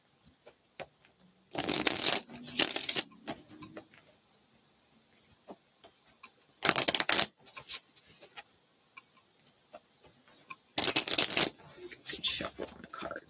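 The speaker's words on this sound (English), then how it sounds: "Good shuffle on the cards." Tarot cards are riffled and shuffled in three distinct bursts, crisp and close, separated by quiet pauses with small clicks and taps.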